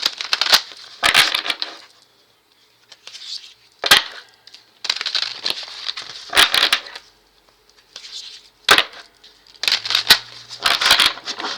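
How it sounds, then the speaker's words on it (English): Bursts of crisp, papery card shuffling come in short clusters with brief pauses between them, close by and fairly loud, with no talking. "I'm going to shuffle in front of y'all"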